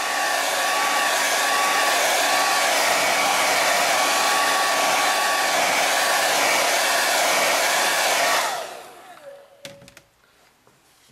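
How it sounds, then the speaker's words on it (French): A hair dryer blows loudly and steadily for several seconds, then switches off, leaving a few faint clicks and handling knocks. "parce que le sèche-cheveux a passé et passé dessous"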